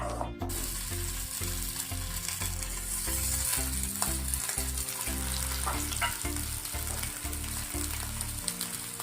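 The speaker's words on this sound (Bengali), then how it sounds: "তেলটা গরম হয়ে গেলে চিকেনটাকে হালকা করে" Pieces of chicken coated in cornflour fry in hot white oil, a continuous bubbling sizzle with soft scraping and stirring clatter, close but moderate in level, without speech.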